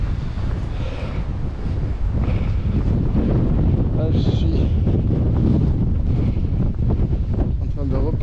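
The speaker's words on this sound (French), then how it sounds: "le vent est en train de forcir en plus, donc ça va être inaudible pour vous." Strong wind buffets the microphone outdoors at Carcassonne, a loud continuous roar with gusty swells, while someone speaks French briefly beneath it.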